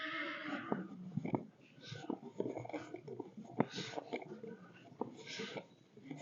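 A horse whinnies at a riding school with horses and ponies, mixed with indoor stable noises and soft background voices.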